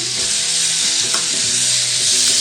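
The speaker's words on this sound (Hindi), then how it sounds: "थोड़ा सा फ्राई करने के बाद हमने इसमें टमाटर ऐड कर दिए और इसको थोड़ा सा हिला लेते हैं" Tomatoes frying and being stirred in a pan, with a continuous bright hiss of sizzling oil and faint scrapes and clinks from the stirring, close and steady with no talk.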